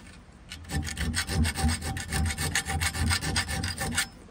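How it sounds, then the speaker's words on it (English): Rhythmic rasping strokes of a round hand file enlarging a hole in a metal mount for an M8 bolt, a fast steady back-and-forth scraping at close range, with no talking. "we're gonna have to file this out"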